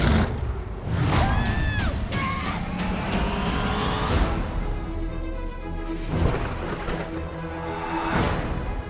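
A station wagon's engine drives hard, with rising and falling whines and sharp tire squeals in the first few seconds, then a steady, loud rumble and roar that carries through to the end.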